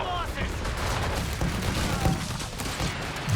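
Scattered gunfire in Company of Heroes 3, with shots landing on a Panzer 3 amid a dense, constant din of battle, talk running over it throughout.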